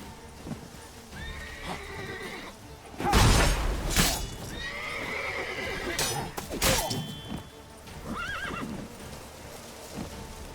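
A horse in The Witcher 3 whinnies and neighs repeatedly amid clip-clopping hooves and loud crashing game action, with bursts of chaotic noise between the calls.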